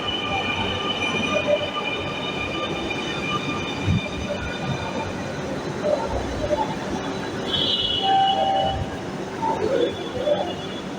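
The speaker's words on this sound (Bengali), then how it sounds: "ফাইনালি ট্রেন চলে আসছে।" A metro train pulls in and runs along the track, a steady close rumble of wheels with high metallic squeals and brake whines rising near the end, plus faint voices in the background.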